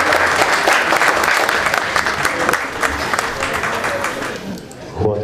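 Loud, dense applause from a concert audience welcoming a ghazal singer, sustained clapping that tapers slightly before a voice comes in at the very end.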